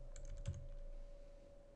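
A short burst of typing on a computer keyboard while entering load details in dispatch software, a quick run of light close key clicks over a steady electrical hum, then fading to quiet.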